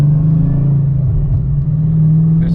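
Whipple-supercharged Dodge Challenger Scat Pack with CNC-ported heads droning loudly from inside while driving, a steady deep engine rumble holding an even pitch throughout.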